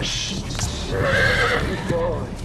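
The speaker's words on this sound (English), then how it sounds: "the horse rears up and then comes back down" A horse rears up and whinnies loudly during a film stunt, its neigh rising mid-clip over hoof clatter and background voices on set.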